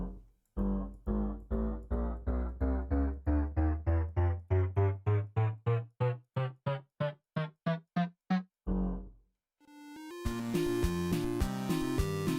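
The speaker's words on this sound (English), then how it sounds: "The didgeridoo is made by placing a pumpkin underneath a note block," Minecraft note block didgeridoo, set over a pumpkin, plays a climbing sequence of about twenty droning, reedy buzzes in an even pulse, loud and close, followed by a pause and a burst of denser, harsher square-wave tones.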